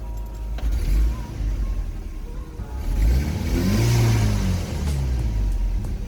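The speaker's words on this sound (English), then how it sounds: "I gave it a few hard revs. I went up towards red line as well." An Audi RS4 engine revs hard toward redline with rising, roaring sweeps that climb and fall, loud and close with no talk, after a fuel return valve upgrade.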